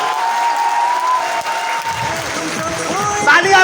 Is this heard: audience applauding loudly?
yes